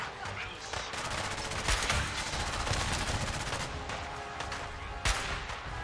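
Gunfire rings out while sniping in the video game Fallout 4: rapid, loud bursts of shots blend into a dense, continuous barrage with a few sharper cracks standing out.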